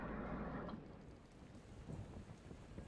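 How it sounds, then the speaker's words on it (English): Steady rain hisses and patters with a low, rolling rumble of thunder in the zombie video game Dying Light, heard faintly and continuously with no voices. "I like the rain. Every time it rains, I think it's really cool."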